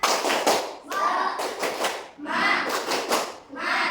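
A class of primary schoolchildren performs a rhythmic Indonesian spirit clap in unison, bursts of hand claps in quick patterned groups with short pauses between, loud and close in a classroom.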